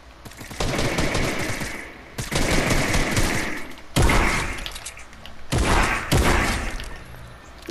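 Shotgun blasts in the video game Fortnite Season 9, four loud booming shots with short gaps between them, each with a rough, ragged tail.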